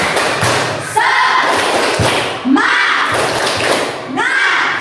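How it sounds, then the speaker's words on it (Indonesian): A classroom of children does a rhythmic spirit clapping chant during a coding and artificial intelligence lesson, with sharp claps and thumps in bursts alongside loud young voices chanting together. "ayo tepuk semangat dulu ya"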